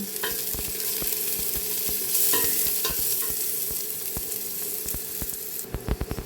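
Garlic fries in a pan with steady crackling sizzle, broken by repeated sharp clicks and scrapes of stirring that grow busier near the end.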